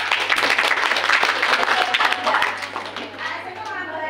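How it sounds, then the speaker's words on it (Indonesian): Lively applause for a male teacher at an Indonesian school gathering, many hands clapping close and loud with children's voices mixed in, tapering off near the end. "Oke, tepuk tangan untuk Bapak"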